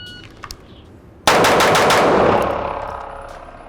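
Rapid gunshots during a D.O.P.E. shooting drill: after a short quiet lead-in, a fast, loud string of shots fires in quick succession, with echoing decay trailing off at the end.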